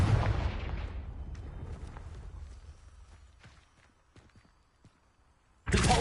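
A Confringo fire spell goes off in a Harry Potter video game, a loud broadband blast that rumbles and decays over several seconds with scattered crackles, followed by a second sharp burst at the end.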